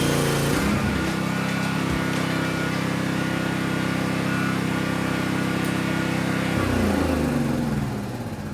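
A Philking 200A inverter generator runs under load from two welding machines at once, a steady, loud, close engine drone with a strong low hum that shifts pitch near the start and again near the end.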